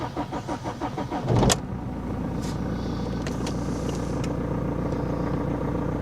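Engine of a second-hand supercar fired up, with a noisy fuel pump whirring beforehand. Starter cranks rhythmically, then the engine catches with a sharp burst and settles into a steady, loud idle, close by.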